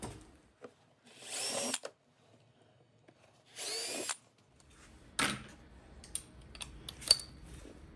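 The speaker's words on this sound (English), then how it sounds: "I'm going to pre-drill with a 1/8 drill." Pre-drilling holes with a 1/8 inch drill bit into a dust collector cyclone cover, heard as two separate whirring bursts of about a second each, followed by scattered clicks and handling clatter.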